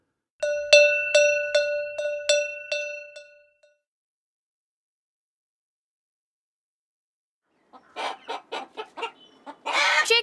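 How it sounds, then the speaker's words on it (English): A series of loud, evenly spaced hen clucks for a few seconds, then silence, then a quicker run of clucking and squawks. "Chickens."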